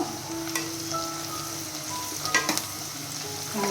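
Poha tempering with turmeric in a frying pan, a close, steady sizzle with the scrape of stirring and a few clinks.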